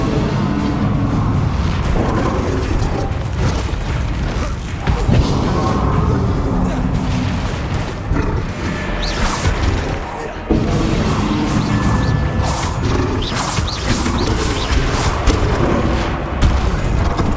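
Explosive spells are cast in Hogwarts Legacy played in VR, loud repeated booms and crashing blasts in rapid succession, with a voice shouting throughout.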